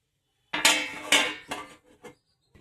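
A metal lid is set down over a cooking pot of fish curry, several sharp clanks and rattles as it settles into place, close and fairly loud, then a couple of lighter knocks trailing off.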